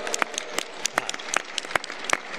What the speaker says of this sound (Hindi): जोरदार ताली ठोको इनको लिए